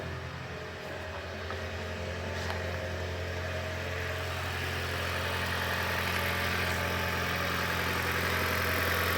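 A Lexus CT200h hybrid engine running after a head gasket repair, a steady low idle hum with mild vibration that holds constant and grows slightly louder over the stretch, with no talking.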